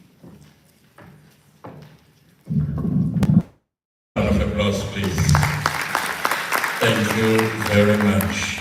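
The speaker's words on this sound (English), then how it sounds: "Round of applause, please." An audience applauds at a workplace safety and health commemoration: a voice speaks briefly, a short silence follows, then loud, dense clapping from a large crowd fills the rest.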